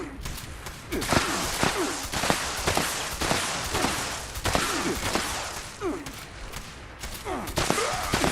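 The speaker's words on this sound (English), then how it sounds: "Literally shooting this guy in the face" Rapid gunfire in Fallout 76, repeated sharp shots in quick irregular bursts, loud and close, with a few louder cracks standing out, no talking over it.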